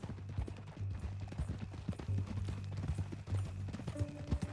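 Horse hooves clip-clopping at a steady walking rhythm in the video game Red Dead Redemption 2, fairly close and moderately quiet, with a low hum underneath.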